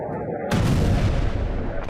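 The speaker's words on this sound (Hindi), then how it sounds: "ऑयल फील्ड के नजदीक पहाड़ी पर हुआ है विस्फोट।" A drone-attack explosion on a hillside near an oil field by Fujairah port, UAE, hits as a sudden loud boom and is followed by a sustained heavy roaring rumble.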